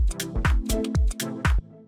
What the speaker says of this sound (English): The next thing that we have here is the second percussion, which sounds like this